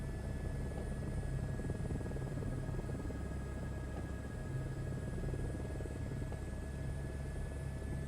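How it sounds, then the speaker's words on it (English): Helicopter lifting off an oil-rig helipad in Microsoft Flight Simulator 2024, a steady low rotor thump and engine whine droning evenly and fairly quietly throughout, with no speech. "Alright, let's take off from the helipad."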